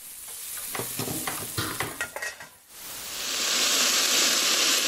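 Peppers, carrots and mushrooms fry with soy sauce and chili sauce in a hot pan. A series of quick stirring scrapes gives way to a loud, steady sizzle that builds and holds.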